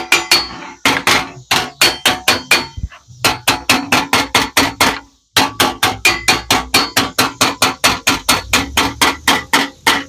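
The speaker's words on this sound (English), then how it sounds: "having that hammer on a nice solid anvil type surface" A hammer tapping sheet metal floor patches for a Shoebox Ford on a solid anvil in a fast, steady rhythm of sharp ringing strikes, loud and close, with one brief pause.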